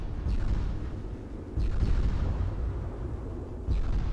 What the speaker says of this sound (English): Destroyer dipping and dodging, attempting to miss as many torpedoes as it can, instead running into every single torpedo